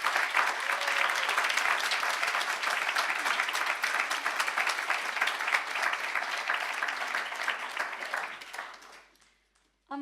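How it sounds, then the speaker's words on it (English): An audience at a women's empowerment event for International Women's Day gives a speaker a round of applause, dense steady clapping that fills the room and fades out near the end. "Can we all please give Yalda another round of applause?"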